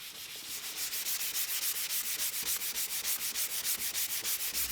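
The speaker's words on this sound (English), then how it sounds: "Now the walnut and maple both get a good sanding to smooth out the glue joints." Walnut and maple wood being sanded to smooth glue joints for a wall clock, a steady rhythmic rubbing with regular strokes about five per second, close and continuous with no talking.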